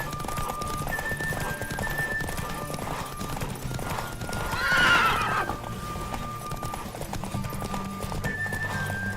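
A horse whinnies over the steady clip-clop of galloping hooves in The Witcher 3: Wild Hunt on PS5, with the game's soundtrack and faint tones running underneath.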